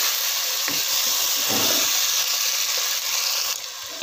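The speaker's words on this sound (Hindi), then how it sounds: "अब हम इसमें गाजर को ऐड कर लेंगे और चम्मच की मदद से अच्छी तरह मिक्स कर लेंगे" Tomatoes and carrots sizzle in a pan as a spoon stirs them, a steady close hiss of frying with faint scraping touches.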